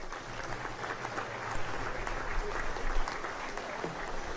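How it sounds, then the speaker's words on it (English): Audience applause at the inauguration of a pasta plant in Tema, a steady wash of many hands clapping at moderate distance, continuous throughout with slight swells. "A big thank you and a big round of applause for Mr. Sunny Vegas, Group co-founder and Group CEO"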